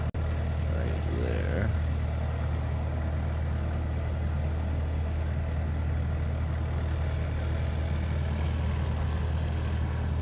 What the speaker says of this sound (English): alright, so the F-22s are lining up again